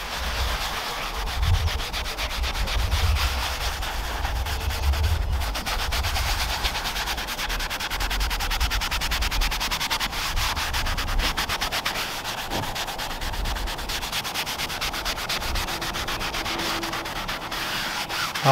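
Steady rubbing and scrubbing as protector product is worked by hand into a convertible's fabric roof, a continuous close, even friction with no talk.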